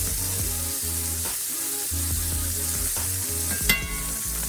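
Pork chops frying in a pan, a steady close sizzle with crackling throughout and a brief sharper spit near the end.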